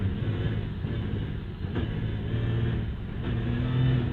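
MINI ALL4 Racing Dakar rally car engine droning and revving on snow and ice in Lapland, a steady close low rumble that swells toward the end, with no voices.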